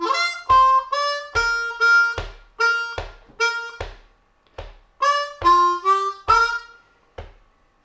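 Harmonica in Eb plays a lick: a phrase of short, bright, reedy notes in uneven bursts, pausing midway and then repeating, close and fairly loud with no talking.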